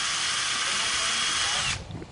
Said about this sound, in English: You want to go ahead and drill through the leg.